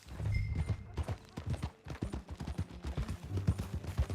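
Horse hooves clip-clopping steadily in Red Dead Redemption 2 at Beecher's Hope, a close, rhythmic trot continuing throughout with low ambient rumble and faint background voices.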